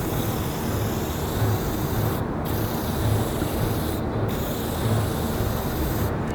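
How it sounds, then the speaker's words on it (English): A can of Kilz white spray paint hisses in loud, close, continuous bursts over a red-painted surface, broken by three short pauses as the nozzle is released and pressed again. "make sure it's spraying"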